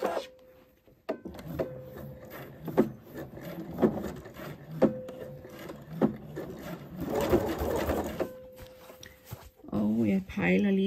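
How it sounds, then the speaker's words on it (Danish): A sewing machine stitches fabric with a one-centimetre seam allowance for a welt pocket, running in short bursts of whirring between pauses and rustling, with a voice talking in between. "Og så syr jeg med en centimeter sømmerum."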